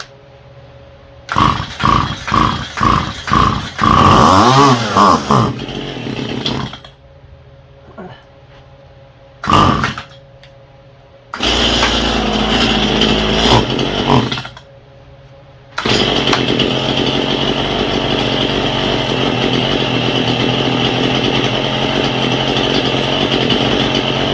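A Stihl MS171 chainsaw with carburetor trouble gives a rhythmic series of pull-start bursts and sputters, then roars close and loud at steady high revs for a long stretch.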